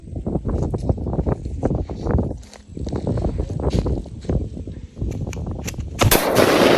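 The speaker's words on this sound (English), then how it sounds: "Now, handmade injection firecracker!" A handmade injection firecracker, set off outdoors in the morning, bursts with one sharp, loud crack near the end, after a run of dense, thumping noise and clatter.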